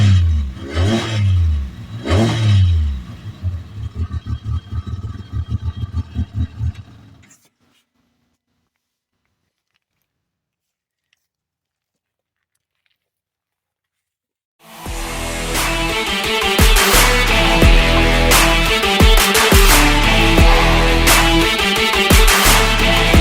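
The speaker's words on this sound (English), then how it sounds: "I'll rev it a little bit so you can hear it." An Arctic Cat Wildcat XX sport UTV engine revs hard in several rising and falling bursts, then goes quiet, then returns loud and sustained with a deep rumbling roar.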